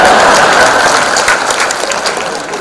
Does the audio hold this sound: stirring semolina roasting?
no